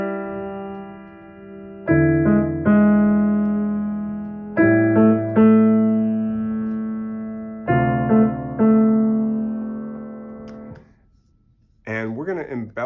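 Guide tone line resembling a well-known melody, played as sustained harmonic chords that change every couple of seconds, clean and close, ending with a brief voice.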